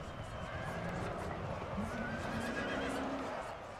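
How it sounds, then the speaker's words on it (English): Horses neigh and whinny amid a dense, continuous battle din in Napoleon: Total War, with hooves and a constant crowd-like roar filling the background at steady loudness. "Horses everywhere."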